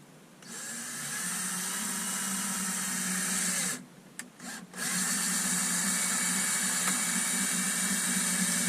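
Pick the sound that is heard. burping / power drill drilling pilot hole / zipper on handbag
power drill drilling pilot hole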